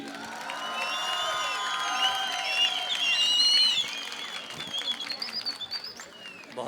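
Audience at a literature festival in Quetta, Pakistan, applauding and cheering for poet Ali Zaryoun, a steady wash of clapping with whoops and shouts that swells midway and then gradually fades.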